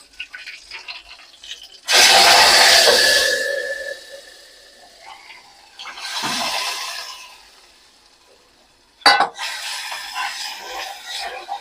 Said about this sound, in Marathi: हा वरण ओतायचं.